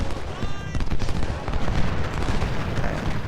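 Battlefield din from Ultimate General: Civil War, with rolling musket volleys and booming artillery fire crackling in dense overlapping bursts, loud and continuous without a pause.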